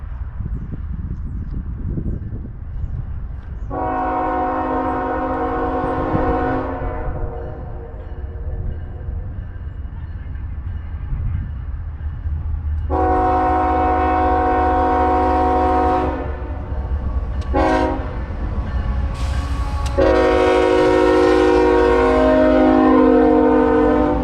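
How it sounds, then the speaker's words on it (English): A Norfolk Southern general manifest freight train, bound from Conway, Pennsylvania to Chattanooga, rumbles past loudly with a steady low roar while its horn sounds in several long blasts, a short toot and a final extended blast. "next up here we've got NS171, which is a general manifest train from Conway, Pennsylvania, down to Butts Yard in Chattanooga"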